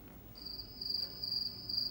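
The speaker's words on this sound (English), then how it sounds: "No one? Crickets?" A cricket chirps in a high, steady trilling pattern of repeated bursts over a quiet background, used as a sound effect to mark awkward silence.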